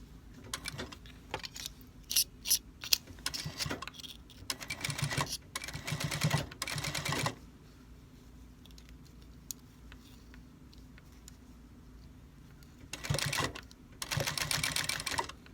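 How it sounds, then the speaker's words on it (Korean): An overlocker sewing machine stitches the hem of a three-tier pleated skirt in rapid mechanical bursts, running for several seconds, pausing in near quiet, then starting again for a final stretch. "여기 끝을 오버로커 치아 또 스티치를 넣죠"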